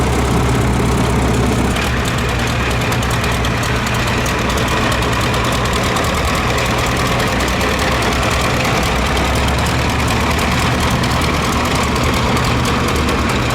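A 1941 John Deere Model 8 tractor engine runs loud and close at a threshing show, a steady heavy low chugging idle with constant vibration and no pauses.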